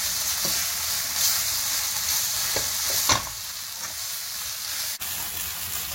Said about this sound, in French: je vais commencer à rajouter les oignons émincés